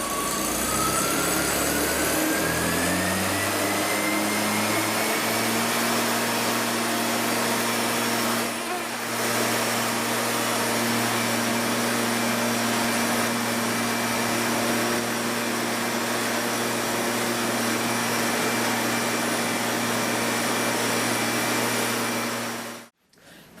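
A homemade hovercraft blows air while hovering, making a loud, steady engine-and-fan drone that revs up at the start, holds constant for about twenty seconds and then cuts off abruptly.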